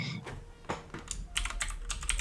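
Someone types on a BBC Micro computer keyboard with close, irregular clicky keystrokes in quick bursts and no voices.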